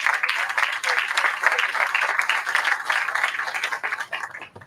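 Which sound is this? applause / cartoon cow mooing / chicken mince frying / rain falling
applause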